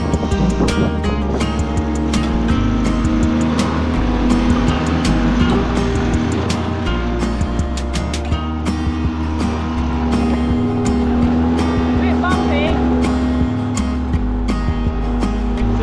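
A dinghy's outboard motor runs steadily at half throttle, a loud, continuous buzzing drone close by, with splashing water and wind noise mixed in.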